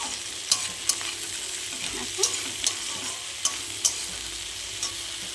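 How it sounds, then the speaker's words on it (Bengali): Vegetables including eggplant sizzle steadily in a hot pan, with repeated scraping clicks of a spatula stirring them at irregular intervals. "এখন আমি অনেকটাই ভাজা ভাজা হয়ে গেছে সব সবজি"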